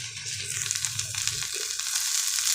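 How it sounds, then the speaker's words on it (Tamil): Okra sautéing in a pan with salt and chilli powder gives off a continuous bright sizzle, with soft stirring scrapes underneath. "இது எல்லாத்தையும் கொஞ்சம் வதக்கி விட்டுறலாம்"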